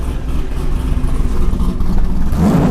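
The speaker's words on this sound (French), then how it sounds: "Je vais mettre un tout petit coup de gaz léger." Chevrolet Corvette C6 V8 given a light blip of throttle, a steady deep engine rumble that rises slightly toward the end, close and fairly loud with no talking.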